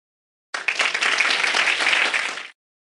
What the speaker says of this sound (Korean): 세계로, 우주로 약진하는 대한민국의 주역들에게 응원의 박수를 보냅니다.